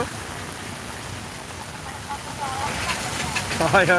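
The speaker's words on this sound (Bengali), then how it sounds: "আজ আরও যেভাবে বৃষ্টি হচ্ছে" Heavy monsoon rain pours steadily outdoors during a flood in Sylhet, a broad continuous hiss with a voice speaking partway through and some nearby clatter toward the end.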